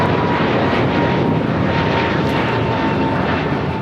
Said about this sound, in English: That was American Airlines Flight 2543 heading to Dallas, Fort Worth, Texas, an A321neo.